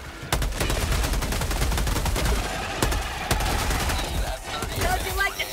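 Rapid SMG bursts and heavy artillery blasts in the shooter game Helldivers 2, loud and dense with repeated sharp cracks and booming hits throughout, battle noise filling the whole stretch.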